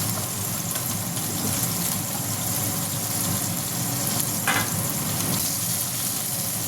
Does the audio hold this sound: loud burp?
no